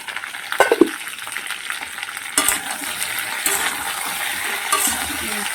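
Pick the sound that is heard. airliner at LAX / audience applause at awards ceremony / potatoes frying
potatoes frying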